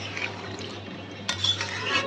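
A spoon works through country chicken curry being fried down with spices and a little water in a pot, giving soft, quiet scraping and wet sloshing, with a brighter clink near the end.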